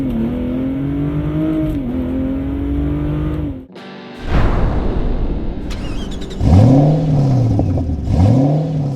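A 2023 Ford Raptor with the 3.5-liter EcoBoost engine idles with a steady hum, cuts out briefly, then revs sharply in loud, close bursts, the last two rising and falling blips.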